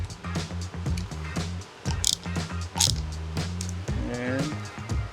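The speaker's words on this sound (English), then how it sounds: "I'm gonna go back and forth as I tighten these down." Brush guard bolts biting into plastic on a TT250 motorcycle as they are tightened, with short creaking, ratcheting turns up close alongside a voice talking.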